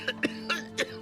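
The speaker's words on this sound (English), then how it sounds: "people outside were indeed coughing and wheezing" Several people cough in a row, four short harsh bursts spaced evenly across a second, with a steady low hum underneath, from an animated film scene set in a town with polluted air.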